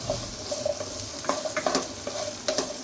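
Drumstick pieces tipped into a simmering pot of kadamba sambar with mixed vegetables, giving a steady low bubbling hiss broken by several soft clatters and scraping stirs, close and fairly quiet with no voices.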